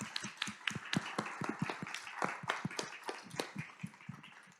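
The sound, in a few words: applause for the speakers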